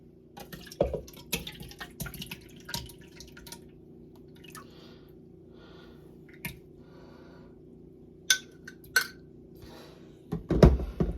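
Thick coquito mixture pours and drips into a mixing bowl, a quiet background tone broken by wet splashes, drips and a few clinks, with a louder splat near the end.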